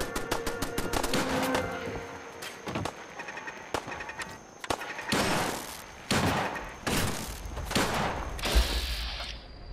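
Gunfire in the video game Fallout 4 rings out in rapid bursts and single sharp shots, with weapon mechanism clicks between them and no voices.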